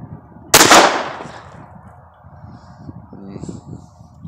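A Beretta Model 21A Bobcat pistol fires one sharp, loud crack outdoors, and a short echoing decay follows into quiet surroundings with faint background noise.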